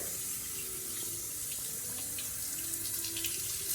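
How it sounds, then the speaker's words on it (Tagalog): Tap water runs steadily into a sink while hands are rinsed during a handwashing routine, a constant close splashing hiss with no talk. "you have to rinse it with water"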